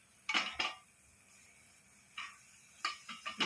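Food gets stirred in a small pan over a gas burner, with a few sharp metallic scrapes and clinks of a spoon against the pan in short bursts separated by quiet pauses, close by.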